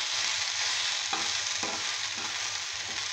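Mixed bhujia fries in hot oil, a loud, dense, continuous sizzle with a few soft stirring scrapes breaking through, close up and with no voices.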